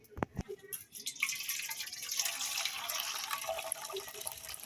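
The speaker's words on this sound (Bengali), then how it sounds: "এখানে আমি কেওড়াগুলো জল ফেলে দিছি" Hot water drains off boiled keora fruit, starting with a few drips and splashes and then settling into a steady pouring rush that carries on to the end.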